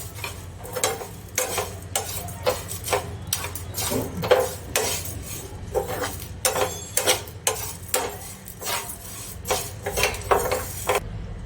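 Curry leaves and spices dry-roasting in a pan for buttermilk masala, with a spoon scraping and clinking against the metal in steady, busy strokes close up, no voices.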